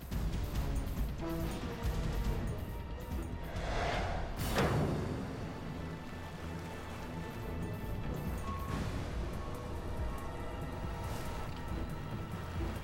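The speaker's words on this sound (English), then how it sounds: "The boulder is lowered just below the water's surface for detonation." An underwater explosive detonation blasting a boulder just below the water's surface during Panama Canal construction: a sudden heavy blast, followed by a splashing, rushing wash of water that fades beneath a steady background of sound.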